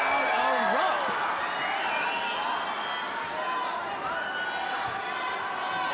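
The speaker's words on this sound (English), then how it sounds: "It's deafening in here. And the crowd erupts." An arena crowd roars without letup after a takedown at a ONE Championship MMA fight in 2018, a dense, loud wall of cheering that fills the whole stretch, with a commentator's voice riding over it.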